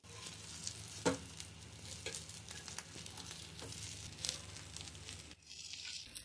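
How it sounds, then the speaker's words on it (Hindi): Rice chapli kebabs sizzle steadily in a pan after being flipped to fry the second side, a continuous crackling hiss with a few sharper pops and a brief drop in intensity near the end, no voices. "अब हम इसी तरह दूसरी तरफ से भी फ्राई कर लेंगे।"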